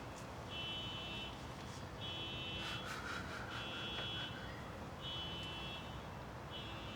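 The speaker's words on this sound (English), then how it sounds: "I'll wait till the car alarm's done." A distant car alarm repeats a steady electronic tone in regular bursts, cycling on and off at a fairly faint level.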